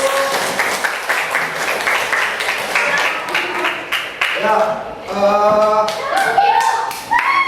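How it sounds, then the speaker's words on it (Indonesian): A classroom of students claps together to close a lesson, with loud, uneven clapping close by. Children's voices and chatter mix in, and the clapping grows livelier toward the end as a teacher speaks briefly. "mengakhiri pembelajarannya tepuk tangan dulu."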